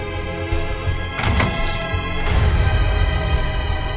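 In the video game AI The Somnium Files, a door is unlocked with a key and opens. Two short mechanical clunks and thuds sound close and loud over a sustained game music bed.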